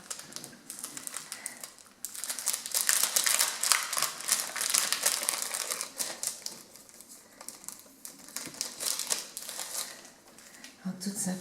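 Cardboard packaging is pulled off a received parcel, a dense run of crinkling, rustling and scraping that rises and falls for several seconds, with someone speaking French over and between the handling noises.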